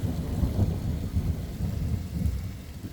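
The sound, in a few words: thunder during spring rain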